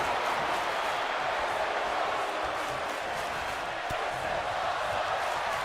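Steady, dense arena crowd roar from a WWE 2K22 wrestling match, a continuous wash of cheering that holds at an even level throughout with one brief sharp accent near the end.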